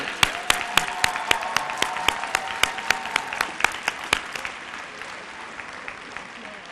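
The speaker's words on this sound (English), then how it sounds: "Let's give a round of applause for everybody." At a service awards ceremony, a small audience claps with a few loud, distinct hand claps standing out above a lighter round of applause that gradually tapers off.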